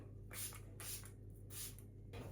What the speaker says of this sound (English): Might do one more spray.